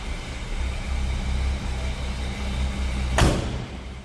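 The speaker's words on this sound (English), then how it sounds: "Door closes nicely." A single solid thunk as the door of a 1953 International L-120 pickup swings shut, heard close by over a steady low rumble.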